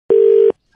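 A landline telephone's dial tone sounds after the receiver is hung up: one steady, loud, unbroken tone lasting under half a second, then silence.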